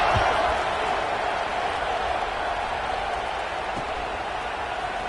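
Football stadium crowd buzzing after a score in a Madden 26 video game broadcast, a steady broad roar of many voices holding at an even level throughout.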